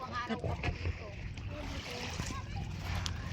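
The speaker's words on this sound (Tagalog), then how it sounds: "ang makina nitong bangka na pinuha" A small Filipino outrigger motor boat at Parola Beach, its engine chugging steadily close by amid water splashes and wind, with people talking over it.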